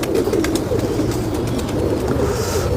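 Pigeons coo softly and repeatedly nearby over a rustling, busy background with faint chirps.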